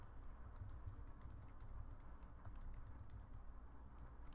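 A computer keyboard is typed on steadily at close range over a constant low hum. The keystrokes come as a rapid, even patter of soft clicks and nobody talks.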